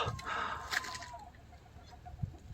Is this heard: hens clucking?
yes